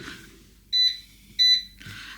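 An air fryer gives two short electronic beeps when cooking finishes, each a clear double-pulsed tone, spaced about half a second apart, with faint rustling before and after.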